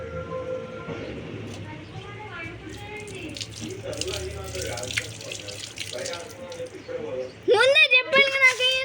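Water pours and splashes while henna is rinsed off hands at a sink, running steadily beneath continuous close talk from several voices, with a brief louder burst of voices near the end.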